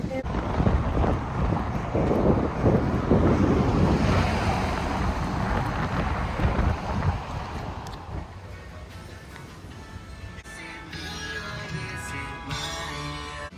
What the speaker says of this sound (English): it is very windy, very cold. Not cold, but it's like really breezy.